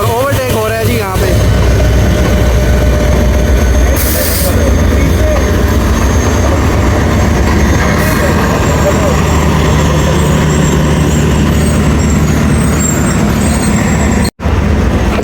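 A train rolls past a railway station platform in Jhang, giving a loud, continuous rumble and clatter of wheels with brief high squeals, while voices talk over it and a sharp break cuts in near the end.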